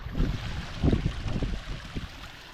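Water from a backyard pond waterfall tumbles steadily into a small stream, a continuous low rushing and gurgling close by with a few louder splashy surges and no talking.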